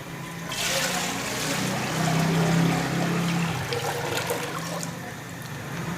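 Water pours into a pot while rose water is being made at home, a steady splashing gush that swells for a few seconds and then settles, close by with no talking.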